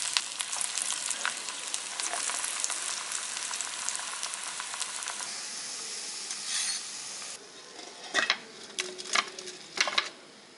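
Small balls of spinach vadai batter deep fry in hot oil with a continuous soft sizzle and crackle, broken later by a few louder bursts of bubbling as more batter drops in.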